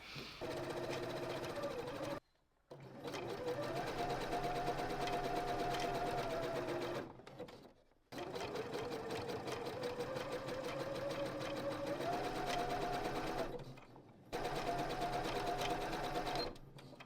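A sewing machine runs in long, steady bursts as it stitches a tight circle in fabric for a headband, its even motor hum broken by three brief stops.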